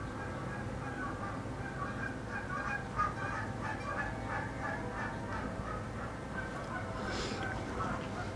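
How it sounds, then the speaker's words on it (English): Chickens clucking next door in a neighbor's yard, a distant run of repeated calls over a steady background hum, faint and somewhat muffled. "Did my neighbors get chickens?"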